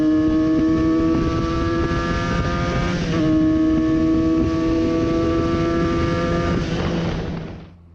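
Benelli BN 302 motorcycle engine revving in a steady, loud, buzzy drone with a brief dip and recovery partway through before fading out at the end, heard close and alone.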